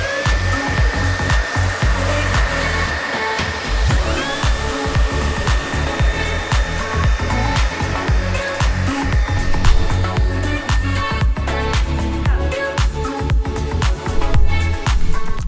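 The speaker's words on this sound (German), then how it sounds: "Ja, und das ist der Staubsauger." A Xiaomi Mi G9 cordless vacuum cleaner runs loud and close with a steady motor roar and high whine, continuous throughout with small shifts in pitch.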